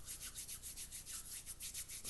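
Two hands rubbed briskly against each other during a self-massage routine, producing a steady, close, rhythmic swishing friction with regular strokes about four per second, alone with no talk.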